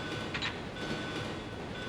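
A train in Resident Evil 2 rumbles on steadily with a low, continuous roar and faint rattling, close and even throughout.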